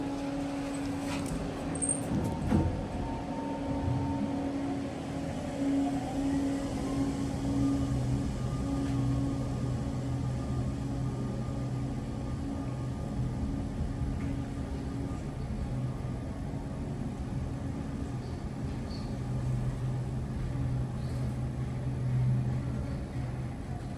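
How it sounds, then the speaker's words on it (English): A TKE Evolution machine-room-less high-speed traction elevator hums steadily as it descends at The Rev in College Station. The motor drone is low and even, with faint tonal whine and light rattles, and no talk. "Gotta hear this motor going down."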